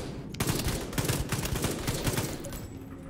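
Sustained automatic fire from a light machine gun in The Division 2 video game, a dense rapid rattle of shots running close and loud through the whole stretch.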